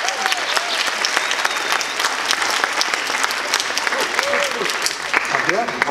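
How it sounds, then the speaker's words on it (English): An audience applauds a volunteer at a school physics science show, steady dense clapping filling the room for several seconds while a few voices call out over it. "A big applause for the volunteer strike."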